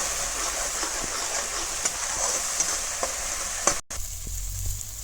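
A spice paste of ground turmeric and chili sizzles steadily in a hot pan while being stirred, giving a continuous close hiss with faint scraping and a brief break near the end.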